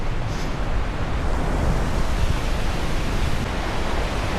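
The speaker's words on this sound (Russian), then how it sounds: "А вот и видно уже сам этот, ручей, канал, приток реки Пскем." A mountain stream, a tributary of the Pskem River in a gorge in Uzbekistan, rushes with a steady, loud broadband roar that never lets up.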